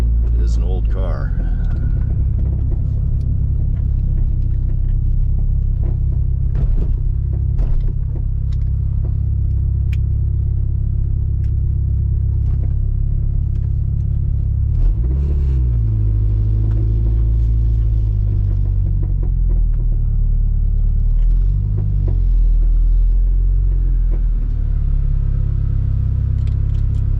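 An old Porsche 944 Turbo drives along with steady, loud engine and road rumble throughout, a few brief knocks and rattles from the worn suspension breaking through, and occasional voices faintly underneath.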